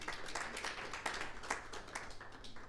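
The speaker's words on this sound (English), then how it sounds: "So I'd just like to give an applaud to one of the legends of our sport here." Scattered audience clapping at an outdoor athletics meeting, moderately distant and steady, a crowd giving a round of applause without talk.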